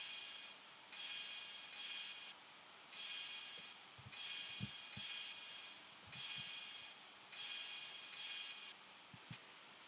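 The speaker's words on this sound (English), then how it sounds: "super basic trap cymbal crash thing that is in just about any sample pack you go to" Six bright trap-style cymbal crashes from a sample pack ring out alone in an even rhythm, each hitting sharply and fading before the next, with a short tick at the end.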